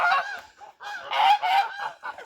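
Young ducks in a farmyard quack and honk in short, nasal bursts, several calls overlapping in uneven clusters, fairly close and loud with brief pauses between.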